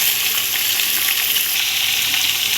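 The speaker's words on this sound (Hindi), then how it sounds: "चिकन को गोल्डन फ्राई होने देंगे" Chicken fries in a pan with onions and ginger-garlic paste, a dense, loud, unbroken sizzle close up, with faint stirring movement and no voices.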